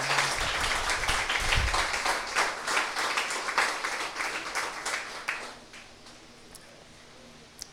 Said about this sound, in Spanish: Denle un gran aplauso al Señor, glorioso.